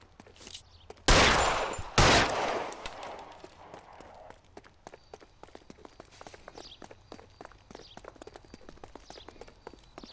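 Two loud, sharp gunshots about a second apart ring out in the L.A. Noire video game, followed by quicker, fainter footsteps and scuffling.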